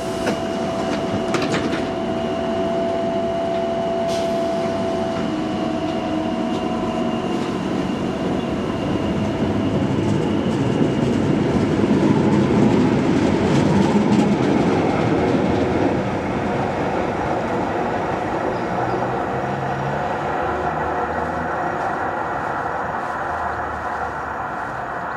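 A Tyne and Wear Metro train at Millfield station rumbles and clatters steadily on the rails for a long stretch, with some squeal and whine of wheels and motors, loud and close at the platform.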